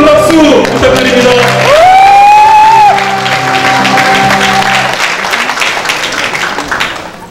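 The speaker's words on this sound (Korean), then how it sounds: "여러분 다시 한번 큰 박수 부탁드립니다." Clapping and cheers rise from the crowd at a Bareunmirae Party leadership election convention, first under a sustained tonal sound, then carrying on alone as a broad, gradually fading wash of applause.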